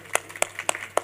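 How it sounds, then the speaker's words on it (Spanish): A handful of separate, sharp hand claps ring out at a book fair literary presentation, sparse and fairly faint in a quiet room, with no voices. "un aplauso de verdad"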